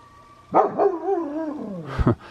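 A dog on a farm responds to coyotes with a drawn-out, wavering bark-howl, then two sharp barks close by.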